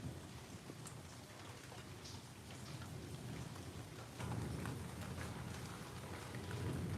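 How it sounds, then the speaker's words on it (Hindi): Rain falling outside a home, a continuous soft hiss and patter that grows slightly heavier partway through, faint and distant with scattered drop taps, alone without talk. "आवाज आ रही है बारिश की?"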